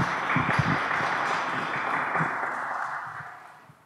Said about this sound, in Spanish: Vamos a recibir con un fuerte aplauso